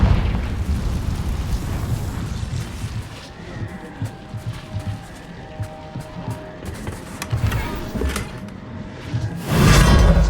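Confringo explosive spell blasts in Hogwarts Legacy, deep booming eruptions and crashing impacts rumbling through a busy combat scene, ending in a loud close burst.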